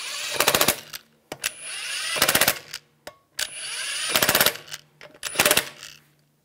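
An impact tool snugs the wheel lug studs on a 2001-2006 BMW 325Xi during a front brake job, firing in four loud, close rattling bursts with short pauses and clicks between them, and no talking.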